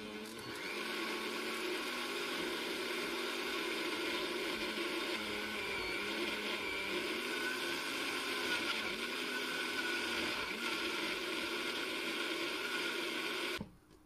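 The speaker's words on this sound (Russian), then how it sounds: "воспользуюсь на этот раз блендером. Измельчу зелень вместе с 500 мл воды со льдом" A blender whirs steadily as it chops fresh herbs with 500 ml of ice water for sausage mince, a continuous loud motor drone with a slight rhythmic churn that stops abruptly at the end.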